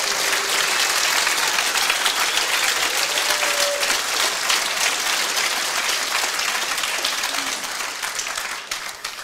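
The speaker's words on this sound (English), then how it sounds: "If you like to give a round of applause to the unnamed people," Sustained applause from a lecture audience, dense and steady clapping throughout before easing slightly at the very end, with no talking over it.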